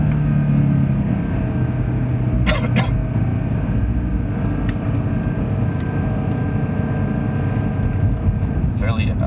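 A turbocharged car engine holds steady at about 4500 RPM with little boost, a continuous loud drone with a low rumble that runs the whole time, and a couple of brief higher bursts partway through.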